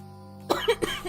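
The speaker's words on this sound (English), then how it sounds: "One moment, please, to cough." A streamer playing a survival game lets out a few sharp coughs close to the microphone, three quick rough bursts following a stretch of quiet electrical hum.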